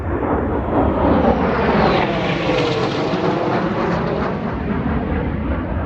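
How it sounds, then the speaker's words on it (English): An Air Force jet flies low overhead past a fall garden, its loud broadband engine roar swelling and shifting pitch as it passes, sustained and close. "That was an Air Force jet of some sort."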